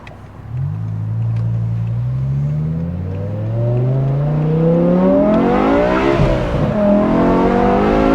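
A BMW E60 M5 with its V10 engine pulls away hard, the revs climbing in a rising howl with tyre scrabble from wheel spin, then easing off as the driver lifts near the end.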